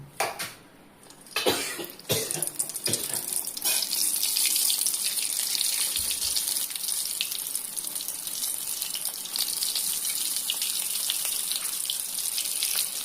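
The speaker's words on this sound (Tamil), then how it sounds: "இது எல்லாத்தையும் நம்ம பொரிச்சு எடுக்கலாம். நல்லா எண்ணெய் காஞ்சிடுச்சு." Veg rolls deep-frying in hot oil give a steady, close bright hiss that holds for most of the stretch, after a few sharp knocks and bumps near the start.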